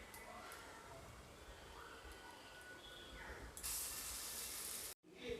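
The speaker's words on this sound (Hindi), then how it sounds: "अब मैं इसी पैन के अंदर बचे हुए पकौड़े को भी फ्राई करके रेडी कर लेती हूँ मैं।" Black chana pakoras fry in a pan with a little oil, giving a steady broad hiss that swells louder partway through, cuts out briefly, then returns.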